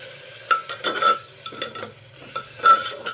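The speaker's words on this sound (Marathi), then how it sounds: "तर हे सगळं व्यवस्थित आपल्याला हलवून घ्यायचं आहे" A spoon stirs red chili powder through soaked rice and dal in a pot for masala khichdi, with a run of soft scraping and clinking strokes at close range and no voices.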